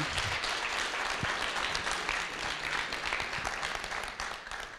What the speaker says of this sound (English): One more round of applause for Julie.